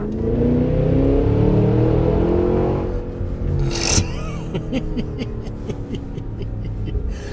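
A high-performance SUV, either a Cadillac Escalade V or a Mercedes-AMG G63, revs hard under acceleration with a loud droning exhaust, then a sharp burst followed by a rapid series of crackles and pops as it lets off.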